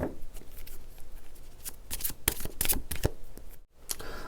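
Tarot cards shuffled by hand, a rapid close flurry of riffling and flicking card sounds that runs continuously with a brief pause near the end.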